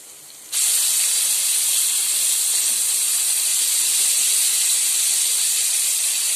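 Korean-style chicken frying in oil, a loud steady hissing sizzle that starts abruptly after a brief quieter moment and holds evenly, close up, with no talking.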